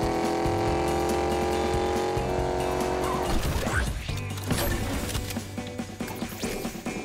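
Car driving in Fortnite Chapter 4 Season 4, with a droning engine tone running throughout, a burst of tire squeal or skidding partway through, and the engine carrying on loudly afterward.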